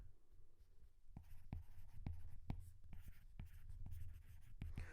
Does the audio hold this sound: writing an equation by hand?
yes